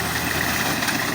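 A 480 tractor engine runs with a reaper attached during a wheat harvest, giving a steady, close, continuous mechanical hum and rumble with no voices.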